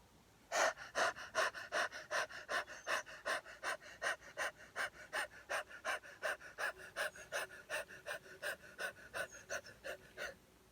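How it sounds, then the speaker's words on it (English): Long, deep rhythmic breaths during a yoga kriya practice, about two dozen strong regular inhale-exhale pulses at an even pace, close and clear with no talking. "Take a long breath."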